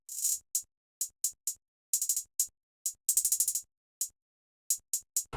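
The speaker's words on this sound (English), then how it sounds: "I usually have a crazy hi-hat pattern that goes maybe like 3 or 4 octaves up and" A hi-hat pattern from a drum kit sample pack plays alone as crisp, hissy cymbal hits in uneven bursts, with a few fast rolls and short gaps of silence between them.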